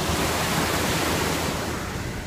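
Steady, dense rushing of water fills the clip as a car drives through deep flood water on a road in Thailand, a continuous broadband wash, loud and close with no speech.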